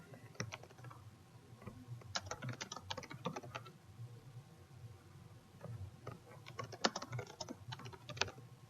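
Steady computer keyboard typing while entering a hostname into a DNS monitoring tool, two dense bursts of quick keystrokes separated by a quieter pause, close and fairly soft, with no voices.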